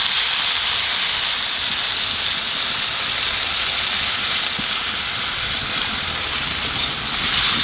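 Water poured into hot oil with fresh small fish in a village-style pan throws up a loud, continuous hiss of steam and sizzle that stays steady and close the whole way through, with no talking.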